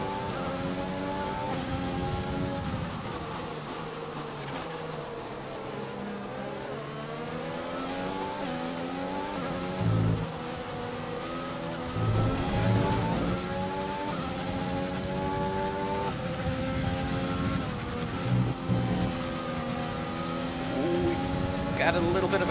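An F1 race car in the game F1 2020, racing at the Belgian circuit, screams through rising and falling gear changes at steady close range while someone talks over it.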